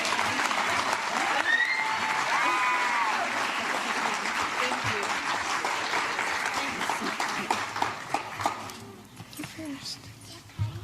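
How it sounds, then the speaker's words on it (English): Sustained audience applause at an arangetram dance recital, a family event, welcoming a shy speaker, steady clapping from a crowd with a dog barking and whimpering, tapering off toward the end. "let's give her a round of applause before her speech"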